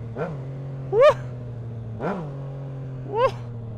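A Yamaha MT motorcycle engine idles with a steady low burble and is blipped four times in alternating short and rising revs, each rev a quick, sharp climb that falls straight back to idle.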